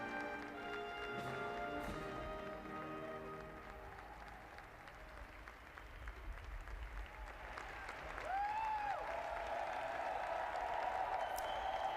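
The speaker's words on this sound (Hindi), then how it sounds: "तालियों की गड़गड़ाहट के साथ डोनाल्ड ट्रंप का स्वागत किया जा रहा है।" Sustained applause from a large crowd at Donald Trump's presidential inauguration ceremony, a steady roar of clapping that swells slightly louder toward the end.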